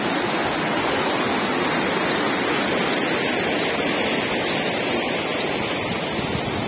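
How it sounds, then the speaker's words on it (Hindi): A stream flows beneath a road bridge on the Gilgit to Skardu route in northern Pakistan, feeding toward the Indus River. Its rushing water forms a steady, loud, broadband roar that fills the whole stretch without pause or voices. "इस पुल के नीचे नाला बह रहा है"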